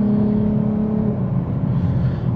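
A 2022 Lexus IS 350 F Sport with a 3.5L V6 accelerating on the road, a steady droning engine note with a low harmonic hum that holds briefly then blends into broadband road and engine noise, heard from inside the car.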